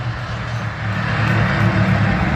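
Race car engine on an oval speedway, a loud sustained roar with a steady droning pitch that swells slightly as the car passes close by, with no voices.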